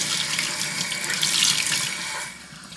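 Water runs steadily from a sink tap in a bathroom, a continuous close hiss that eases slightly toward the end.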